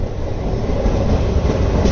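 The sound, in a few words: Pinakini Superfast Express train running toward Chennai Central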